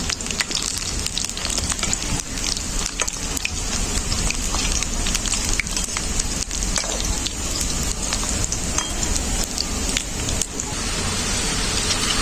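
Phuluri, lentil fritters, deep-frying in hot oil, a steady dense crackling sizzle that fills the whole stretch at close range, with sharp spitting pops scattered throughout and no voices.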